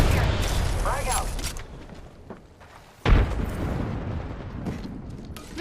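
A grenade blast in a video game hits as a sudden loud boom midway through, followed by a rumbling decay. Lighter gunfire-like bursts come before it, and a player talks throughout.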